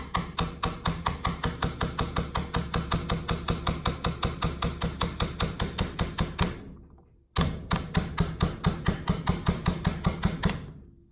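Rapid, even light hammer taps with a small hammer on a snowmobile engine's wrist pin during top-end removal, repeating in a steady rhythm, pausing briefly once before resuming at the same brisk pace.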